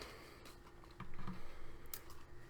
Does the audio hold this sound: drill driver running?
no